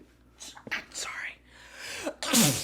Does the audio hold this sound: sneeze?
yes